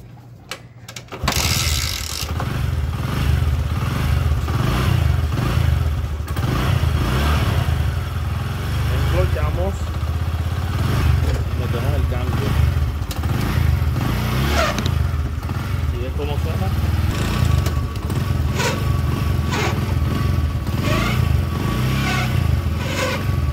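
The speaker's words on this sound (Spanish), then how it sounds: "Mira, prendemos la moto." A Bajaj Discover 100 Sport motorcycle with an abnormal engine noise starts after a second of quiet and keeps idling loudly, with a busy mechanical ticking and rattle throughout while people talk nearby.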